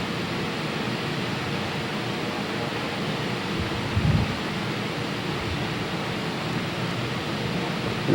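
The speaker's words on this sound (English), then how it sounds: "But listen to it. It's like the rain in the trees." Heavy rain falling on trees near the Panama Canal, a steady dense hiss throughout, loud and continuous with no voices.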